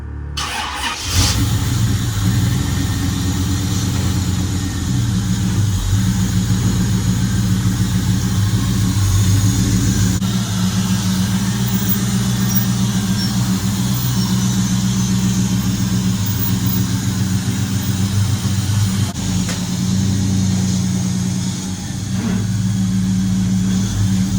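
A 1966 Chevy C10 with an LT1 engine starts with a quick crank and then idles steadily with a deep, loud rumble close by, running alone throughout.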